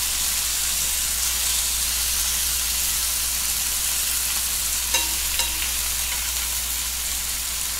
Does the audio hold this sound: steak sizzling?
yes